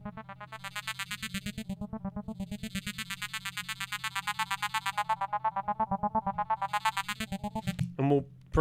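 A synthesizer pulses in a fast, steady rhythm of bright repeated notes while the morph dial is turned, so the tone sweeps and bends, followed by a short burst of a different sound near the end.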